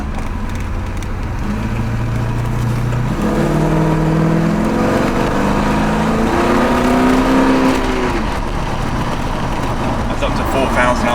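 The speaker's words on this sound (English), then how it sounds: "We can accelerate a little bit up this straight here." Porsche 928 at night accelerating up a straight with a free-flowing exhaust, engine note climbing steadily in pitch toward about 4,000 RPM inside the cabin, with someone talking over the rising drone.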